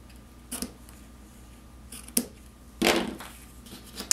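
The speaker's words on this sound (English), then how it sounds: "We'll use our paper snips and trim that up." Paper snips trim paper for a handmade watercolor wash thank-you card in a few separate crisp cuts, the last one longer and louder, in a quiet room.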